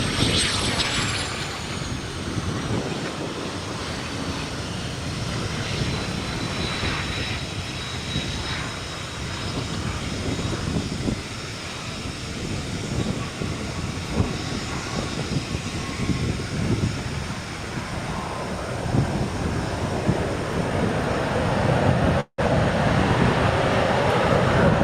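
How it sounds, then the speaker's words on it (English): A business jet at Austin-Bergstrom International Airport produces a long, steady engine roar with a high turbine whine, loud throughout and without talk. "More business jet action."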